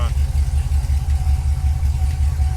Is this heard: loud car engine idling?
yes